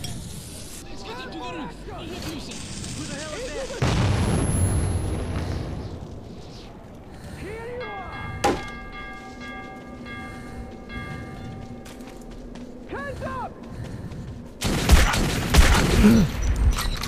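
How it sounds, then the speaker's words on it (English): Shotgun fire in the video game Metro 2033: a few loud, sharp blasts spaced seconds apart, each followed by a short rumbling tail, set against quieter game ambience. "Shot you three times in the chest with a shotgun"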